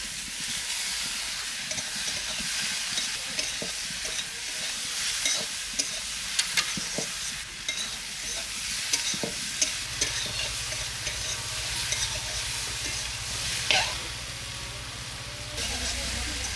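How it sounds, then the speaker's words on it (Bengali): Fried eggplant pieces are stirred through sizzling oil in a pan, giving a steady hiss of frying with scraping stir strokes and occasional sharper clinks, close and continuous without talk. "ভেজে রাখা বেগুনগুলো দিয়ে দিচ্ছি।"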